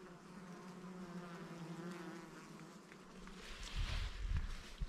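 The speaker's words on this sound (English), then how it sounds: "But it's absolutely full of bees." A plant heavy with nectar hums with bees, giving a steady, close buzzing that swells near the end while they drift around the blossoms.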